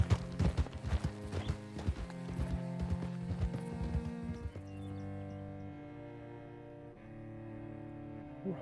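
Horse hooves clip-clop in quick galloping rhythm in Red Dead Redemption 2, loud and close for a few seconds before stopping, leaving a soft musical backdrop.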